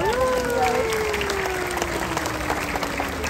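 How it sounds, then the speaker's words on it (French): An audience applauds at a penguin show in Antibes with continuous, moderately loud clapping, while a single drawn-out tonal call or voice glides slowly downward over it. "Donc effectivement, on peut les applaudir déjà d'une part."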